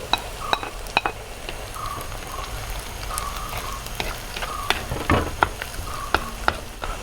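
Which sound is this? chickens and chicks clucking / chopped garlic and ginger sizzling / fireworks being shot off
chopped garlic and ginger sizzling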